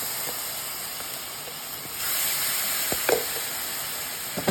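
Garlic sauteing in a pan gives a steady hissing sizzle that grows a little louder partway through, with a few faint scrapes and clicks from stirring.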